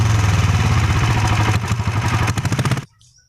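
A diesel Bullet motorcycle runs loud and close with its silencer removed, a deep rapid thumping exhaust beat that stutters and lurches briefly before the engine cuts off abruptly into near silence.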